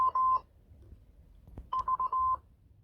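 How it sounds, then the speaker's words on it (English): A Muzen Wild Mini outdoor speaker plays its power-on sound: a short pair of electronic beeping tone bursts, a gap with a click, then a quicker stuttering run of beeps, clear and close with no talk. "you simply hold this button down for a couple of seconds and it makes this funky noise"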